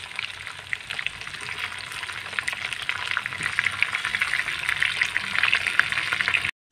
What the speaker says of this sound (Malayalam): ഇനി നമുക്ക് ചിക്കൻ ചേർത്ത് കൊടുക്കാം